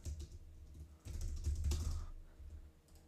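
Typing a prompt on a computer keyboard, a quick run of soft close key clicks that starts lightly, grows denser and louder in the middle, then thins out, quiet with no talk.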